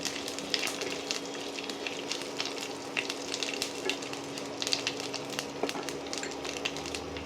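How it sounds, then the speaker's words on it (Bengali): Steady crackling sizzle of whole cumin and other whole spices frying in hot oil, close and continuous, with occasional sharper pops and a faint low hum underneath. "এই ফোড়নটা দিয়ে একটু ভাজা ভাজা করতে হবে।"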